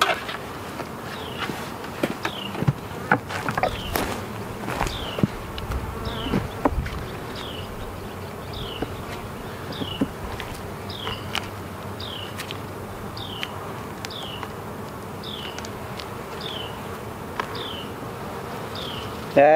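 Honeybees buzzing around an open beehive during a hive inspection, a soft continuous hum of many insects close by, with scattered light clicks and knocks from handling the frames.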